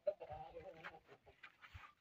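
Backyard chickens clucking softly in short, scattered bursts, faint and fairly close, with a few quiet murmurs in between.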